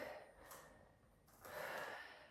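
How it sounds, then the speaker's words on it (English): Slow, deep breaths during an arm-balance yoga flow: soft, airy inhales and exhales, close and very quiet, with two longer breaths separated by a brief pause and no talking. "Breathing deeply."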